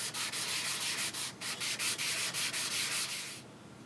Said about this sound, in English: as you get really close to having everything sanded nice and smooth and flat